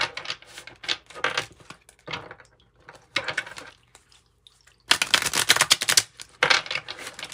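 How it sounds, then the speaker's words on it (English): Tarot cards, an Osho Zen Tarot deck, being shuffled by hand in quick crisp riffling bursts with short pauses between, close and fairly loud, no talking. "I think that shuffled pretty good."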